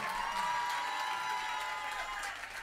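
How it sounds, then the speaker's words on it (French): A stage audience at a live event applauds in a dense, continuous wash of clapping that stays loud throughout, with some crowd cheering mixed in and no talking. "Sephora, qu'on applaudit plus fort que ça, s'il vous plaît"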